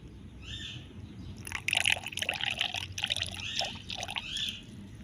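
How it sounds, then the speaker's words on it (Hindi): Sharbat drink poured into a glass, a bright splashing trickle that starts after a quiet moment and keeps flowing in gurgling bursts, close and moderately loud, with no voices. "चलो रीना, गिलास में डालो।"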